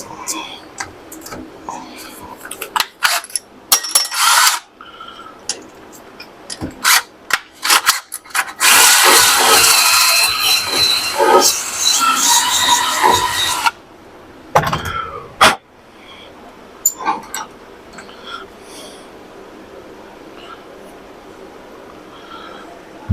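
A small hone run by a power tool inside a cold metal part to clear burrs, a loud grinding whir from about 8.5 to 13.5 seconds, with brief tool bursts and soft talk around it.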